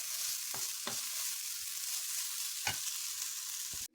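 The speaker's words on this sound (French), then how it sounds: "je la fais, n'est-ce pas, cuire toujours dans une poêle, mais seulement je la fais cuire sans gras" Beef sizzling in a dry pan with no fat, a steady hiss throughout broken by a few sharp clicks of a utensil against the pan, with no voices.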